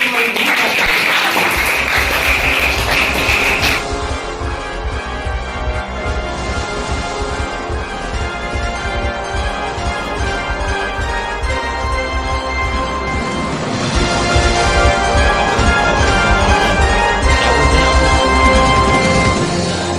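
Loud, sustained audience applause during a quiz-style classroom game show, a dense clapping wash running without a break from start to finish, swelling even louder toward the end with no talk over it.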